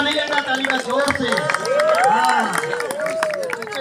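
An audience claps at a futsal championship prize ceremony in Guwahati, crowd applause running under a loud amplified voice that speaks over it throughout.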